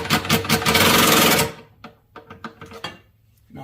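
A ratchet or wrench tightens a bolt on the 3.5L engine of a 2008–09 Ford Taurus. It starts as a dense, fast mechanical rasp, then breaks into scattered short clicks and ticks.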